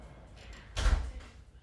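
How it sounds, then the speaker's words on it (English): A front door banged shut as someone arrives home, a single loud thud in the middle with a short rattle after, standing out over a quiet room. "That's my daughter just coming home and banging the door."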